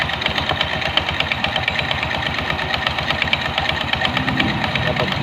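A motorcycle engine idles with a loose, overly slack belt, producing a steady, noisy mechanical rattle and fast ticking knock over a continuous hum, close by.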